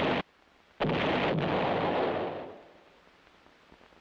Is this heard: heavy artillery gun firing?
yes